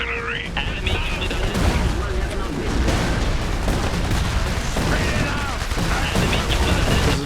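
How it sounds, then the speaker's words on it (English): Artillery fire in the Iron Harvest strategy game: steady, dense booms and crackling gunfire roll through the whole battle, loud and close, with scattered in-game voices mixed in. "Artillery!"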